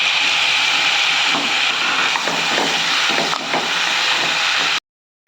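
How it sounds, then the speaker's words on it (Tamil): Chopped tomato and garlic fry in a pan for a lentil ball curry, giving a steady loud hiss with faint stirring scrapes, cutting off abruptly near the end; nobody speaks. "ஒரு தக்காளி பழத்தை பொடியாக கட் பண்ணி வச்சுருக்கிறேன் இதையும் போட்டுக்கலாம்"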